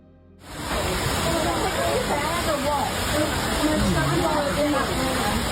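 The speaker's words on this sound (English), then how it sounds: "A broken water pipe left the entire department looking like the Titanic." Water gushes steadily from a broken pipe flooding a hospital department in North Carolina, a loud continuous rushing wash that starts abruptly and runs unbroken, with voices faintly mixed in.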